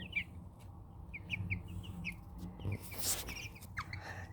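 Soft clucking of silkie hens mixed with high, repeated peeping of chicks, close by over a low murmur of background noise.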